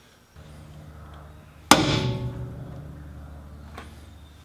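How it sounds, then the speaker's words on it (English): A hammer strikes a steel center punch once to mark the middle of a spot weld: one sharp, ringing metallic hit that decays over a steady background hum. "We marked our center point with a hammer and punch"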